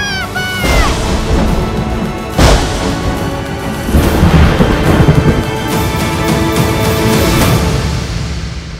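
Thunder of an approaching storm in a dubbed Russian trailer for Storm Boy, heavy rumbling booms and cracks rolling over each other, loud and layered with a dramatic trailer score.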